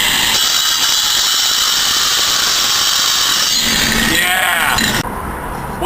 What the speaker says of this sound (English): I've taken the grinding wheel off and put a diamond saw blade on the body grinder. It's great cutting.